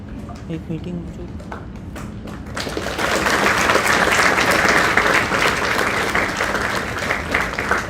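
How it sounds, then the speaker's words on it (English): Audience applause for a guest speaker in a university hall. A few separate claps come first, then a full, dense wave of clapping from a large crowd swells and carries on steadily. "Please put your hands together for a heartfelt round of applause."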